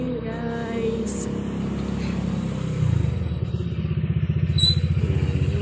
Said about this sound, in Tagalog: ang dami namang motor